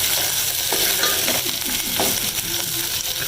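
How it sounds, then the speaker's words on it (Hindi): Onions sauté with cumin seeds in a hot pan for bhindi fry, a steady close sizzle broken by repeated scraping stirs and light clinks of the spoon, with no talk. "और अभी प्याज थोड़े सोटे कर रही हूँ, जीरा डाला इसके अंदर"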